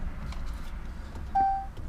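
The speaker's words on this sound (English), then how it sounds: "Sorry for the loud beeping noise." A Dodge Challenger Hellcat with about 850 hp sounds two loud electronic beeps with its door open during a tuning session, the first around a third of a second long and the second cut short, over a low background rumble.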